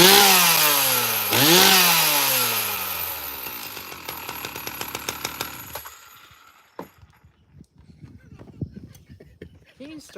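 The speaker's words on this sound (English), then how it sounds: "Start a chainsaw" A chainsaw is started and revved hard, its engine pitch swooping up and down in loud, rough bursts. It cuts out about halfway through, leaving scattered knocks and clatter.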